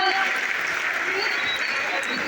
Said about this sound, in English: So a big round of applause for her.